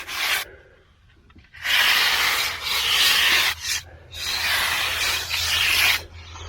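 A surface is rubbed flat with long, steady abrasive strokes, close and loud. Several broad, hissing passes are separated by brief pauses.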